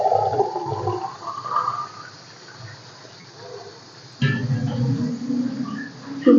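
Water pours from a glass into a cooking pot with soaked old rice for dal chawal, a gushing splash that fades, pauses, then returns louder for a second pour, close by with no talk.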